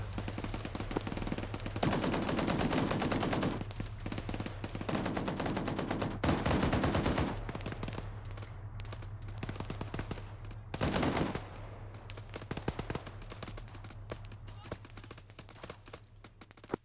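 Sustained machine-gun fire in the video game XRESTAC comes in long, dense bursts with short pauses between them, all over a steady low hum.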